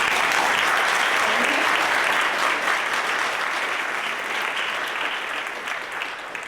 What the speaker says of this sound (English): Can we just have a round of applause first?